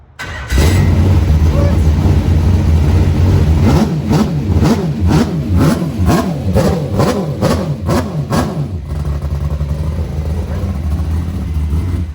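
A NASCAR race car engine being converted for drifting roars at high idle, then revs sharply several times in quick succession before settling back to a steady loud rumble; voices are faintly audible.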